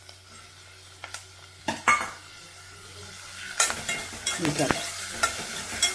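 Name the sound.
onions and tomato frying and being stirred in a pan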